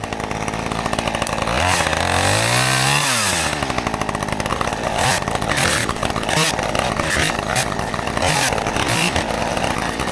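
Chainsaw cutting up a tree for a fire pit, loud close engine revving up and down with a continuous snarling roar.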